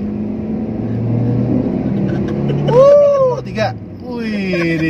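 A 2014 Honda Mobilio E manual engine revving on a test drive, a steady loud hum that swells briefly, with someone talking over it.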